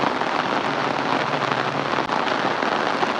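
Steady rain falls over a Punjabi village on a rainy day, a dense even hiss of drops on surfaces throughout with a brief dip near the end and no talk.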